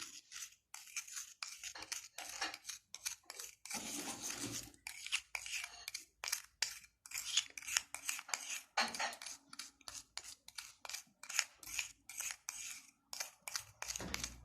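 A homemade salt toothpaste mixture being stirred in a small container makes rapid, irregular scraping clinks and gritty scratches, fairly close and continuous.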